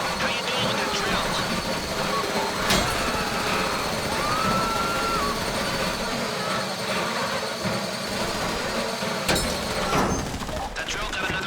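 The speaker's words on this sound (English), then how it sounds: "How you doing with that drill?" In GTA Online's Fleeca Job heist, a drill bores into a safety deposit box with a constant loud grinding drone and scattered sharp clicks. Muffled voices sit underneath.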